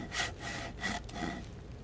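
Handsaw cutting through wood in the survival game DayZ, a few quick rasping back-and-forth strokes, close and fairly quiet, with no talking.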